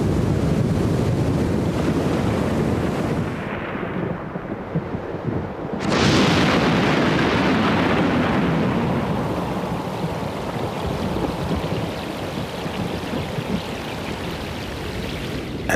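Storm-tossed ocean waves churn loudly under strong wind, a continuous broadband roar with a brief lull before a heavy surge of surf returns and sustains to the end; no distinct thunder stands out.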